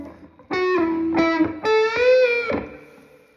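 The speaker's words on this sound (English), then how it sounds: "I'm using a distortion pedal as well, so I won't get a clean sound right now" An electric guitar through a distortion pedal plays a few sustained, buzzy notes in short phrases, then fades out.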